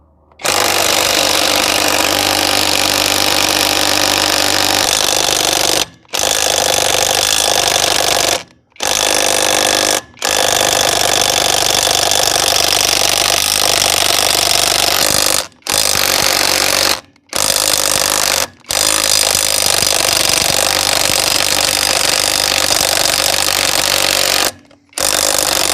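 A Revvstark 480 ft-lb impact wrench, fitted with a 3/4-inch drive socket reduced to 1/2 inch, hammers loudly at a lug nut in long sustained bursts separated by short pauses, close and harsh.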